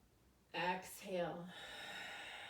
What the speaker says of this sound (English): I'm trying to exaggerate my breath to encourage you to breathe.